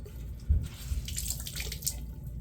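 Water runs from a tap to wet a shaving rag, a soft, faint splashing trickle lasting a couple of seconds.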